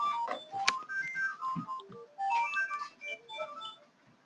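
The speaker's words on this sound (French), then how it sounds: "j'avais oublié de débrancher ce téléphone" A telephone rings during a French webinar, a melodic electronic ringtone playing a repeating tune of bright tones at moderate, fairly close level, with no voices.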